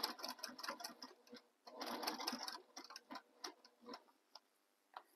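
A sewing machine stitches a pocket onto a tote bag in quick rhythmic bursts of rapid needle ticking, separated by short pauses, close but fairly quiet, with no talking.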